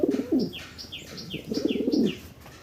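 Fancy pigeons cooing in a repeated series of soft low coos, close by, with faint chirps between them and no talk.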